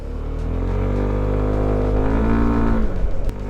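A QJMOTOR ATR 125 motorcycle fires up and pulls away at a dealership, a steady low engine drone rising slightly in pitch and loudness as it rides off, with no talking.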